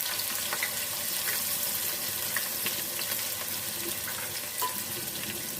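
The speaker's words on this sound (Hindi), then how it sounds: "प्याज को 2 से 3 मिनट के लिए फ्राई कर लिया है" Chopped onions fry in hot oil with whole spices, giving a steady, close, hissing sizzle that carries on evenly with faint crackles and no talk.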